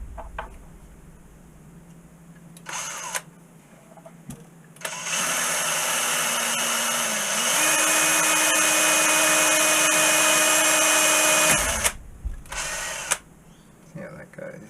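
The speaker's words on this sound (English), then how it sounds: "I might actually get the angle grinder out and grind that off" Angle grinder grinding metal off a weaving machine part, a loud sustained whine lasting about seven seconds with its pitch stepping up midway, bracketed by quieter clanks and short bursts of tool noise, with voices in the background.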